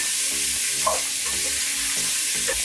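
Vegetables sizzling and starting to caramelize in a sturdy stainless steel pot for Louisiana red beans and rice, a steady dense hiss with faint scattered pops, close and continuous.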